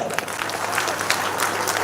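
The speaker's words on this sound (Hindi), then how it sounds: "ताली बजाओ" An audience at a public event claps steadily for a couple of seconds, the applause dense and moderately loud and not very close.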